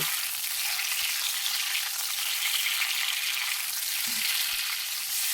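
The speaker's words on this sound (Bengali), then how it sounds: "সিদ্ধ করে রাখা ডিমগুলো কড়ার মধ্যে দিয়ে দিচ্ছি এক এক করে, আর একটু এদিক ওদিক করে ভালো করে ভেজে নেব" Boiled eggs fry in mustard oil in a wok for egg curry, producing a bright, steady hiss of hot oil. A few soft knocks of the eggs being turned break the sizzle, and no one talks.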